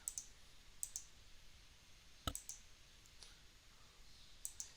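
Mouse clicks during work in SAP MDG software, a few sharp isolated clicks spaced irregularly, close and quiet over a faint background hiss.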